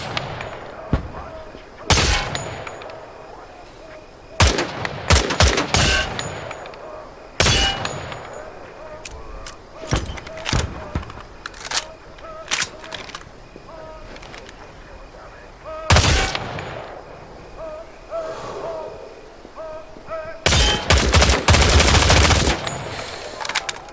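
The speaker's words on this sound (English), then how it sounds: "Shoot the targets ahead, aiming for the helmet to guarantee an instant kill." Gunfire aimed at targets in Hell Let Loose: Vietnam, with sharp single shots and short bursts spread across the span, several dense volleys and a heavy burst near the end, separated by quieter stretches.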